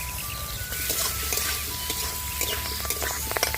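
Onions hit hot oil already holding Kashmiri chilli in a pan for a cauliflower dish. A dense, steady sizzle carries throughout, with small stirring clicks near the end. It is close and even, with no voices.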